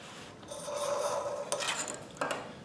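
A dry, raspy rubbing of sandpaper against a thin string of stringing, drawn in steady strokes with a few sharper scrapes, close and fairly quiet.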